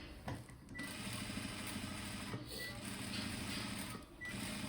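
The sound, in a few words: sewing machine stitching blouse edge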